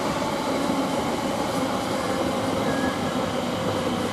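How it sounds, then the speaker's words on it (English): A Class 345 train pulls into Romford station, its steady broadband rumble and rail noise holding at an even, moderately loud level throughout with no voices. "Now we've got another train coming from,"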